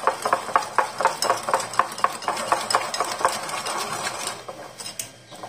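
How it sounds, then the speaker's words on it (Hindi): Mayonnaise being stirred into a thick club sandwich stuffing in a bowl: close, rhythmic clicking and squelching strokes at a brisk, even pace, easing off near the end. "मेयोनीज डाल के भी मिक्स कर लेंगे।"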